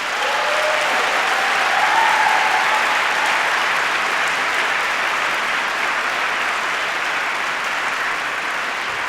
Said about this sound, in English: And I think they deserve applause for that.